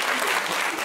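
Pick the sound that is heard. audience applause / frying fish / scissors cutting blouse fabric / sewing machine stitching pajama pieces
audience applause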